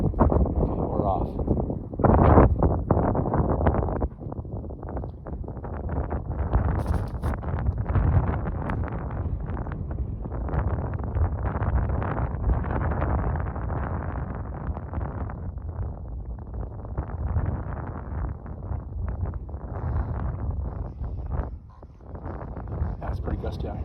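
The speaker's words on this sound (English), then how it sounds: "It's pretty gusty out here." Gusty outdoor wind buffets the microphone in a continuous low roar that swells and dips, with a person talking over it.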